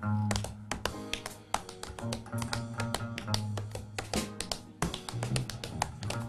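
Rapid, crisp metallic taps from tap shoes on a wooden floor, dense and rhythmic like quick footwork, over a steady low musical backing at a tap jam.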